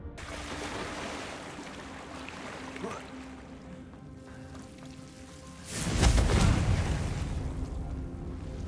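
A Confringo spell explosion bursts out in Hogwarts Legacy, a loud sudden boom about two-thirds through that swells into a rumbling roar over steady game ambience.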